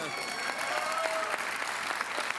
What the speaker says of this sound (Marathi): त्याबद्दल जोरदार टाळ्या त्यांच्यासाठी झाल्या पाहिजेत.